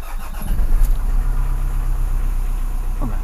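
A Nissan X-Trail T30 engine cranks and catches with a loud starting burst, then settles into a steady low idle nearby, no voices.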